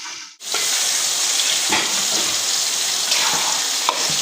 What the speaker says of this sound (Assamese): মাংসখিনি মই মাজতে এবাৰ আকৌ লৰাই দিছোঁ